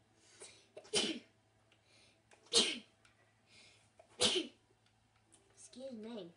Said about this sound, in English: I like always sneeze now